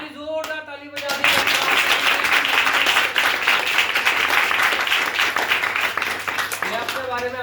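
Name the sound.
church congregation applauding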